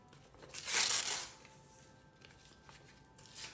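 Paper being cut with a loud rasping snip and tear near the start, followed by quieter rustling and a faint final snip.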